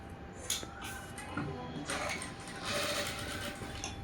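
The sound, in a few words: sewing machine stitching blouse fabric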